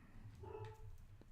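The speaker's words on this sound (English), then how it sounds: "It's my dog's barking in a distance there." A pet dog barks in the distance, a few faint, brief barks heard alone at low level in an otherwise quiet room.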